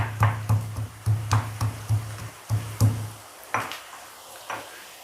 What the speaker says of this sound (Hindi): ये जो अदरक लहसुन है, उसको कूट लेती हूँ।